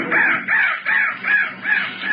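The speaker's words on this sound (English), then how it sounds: "That crow was the bird of death." Crow cawing five times in a steady, evenly spaced series, loud and close, heard alone as a sound effect in an old radio horror drama set near a marsh.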